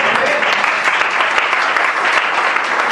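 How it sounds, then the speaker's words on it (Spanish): A church congregation applauds, a dense, steady wash of many hands clapping together, loud and sustained throughout with no break. "Denle un aplauso al Señor"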